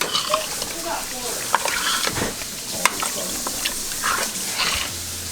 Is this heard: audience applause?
no